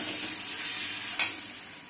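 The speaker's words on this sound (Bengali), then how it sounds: "কষিয়ে নেব" Spices for a Bengali mutton curry sizzle steadily as they are sautéed in hot oil, a dense close frying hiss with a brief scrape of stirring partway through.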